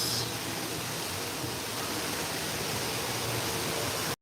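Waterfall and fountain water in the outdoor safari area at Disney's Animal Kingdom, a dense, steady rushing hiss that fills the whole clip without pause, close and constant, with no voices over it.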